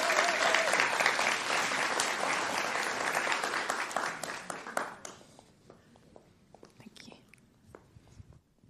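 Audience applause at a food systems pitch event, a dense round of clapping that holds for about five seconds and then thins out to scattered claps and quiet murmuring.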